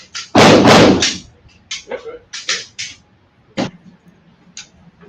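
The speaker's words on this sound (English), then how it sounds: "The shooting you hear is coming from the other bay next to us." Gunshots from a neighbouring shooting bay come through as one loud, close-sounding report followed by a series of sharper, fainter cracks spaced irregularly apart.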